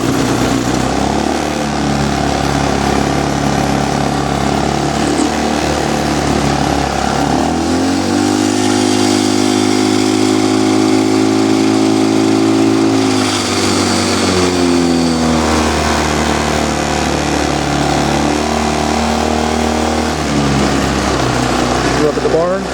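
A four-wheeler ATV engine runs loud and close as it drives, holding a steady drone with a revving surge in the middle before settling back, while people talk over it.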